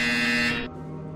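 A loud, steady electronic buzzer from the video game Portal Stories VR drones for about half a second, then cuts off, leaving a quieter hum with no talking over it.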